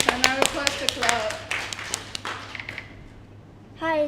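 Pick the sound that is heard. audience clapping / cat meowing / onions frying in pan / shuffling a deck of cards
audience clapping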